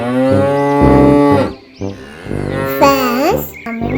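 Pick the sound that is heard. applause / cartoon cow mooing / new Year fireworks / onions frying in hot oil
cartoon cow mooing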